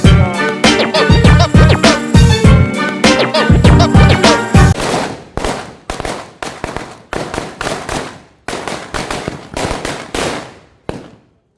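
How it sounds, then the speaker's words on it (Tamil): Strings of firecrackers set off at night to celebrate an election victory, loud rapid crackling bursts at first, then spaced sharp bangs continuing without pause. "தமிழரசு கட்சியினுடைய வெற்றியை கொண்டாடுறதுக்காக வெடி போட்டு கொண்டிருக்காங்க"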